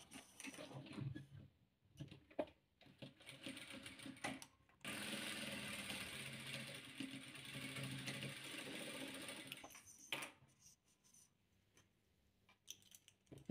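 A sewing machine stitches together squares of red, blue and white patchwork fabric with a fast, steady mechanical chatter, running in several bursts separated by short pauses, close and fairly quiet.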